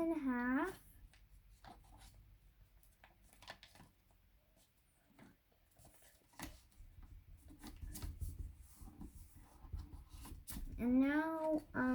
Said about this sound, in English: And now you want to fold it in half.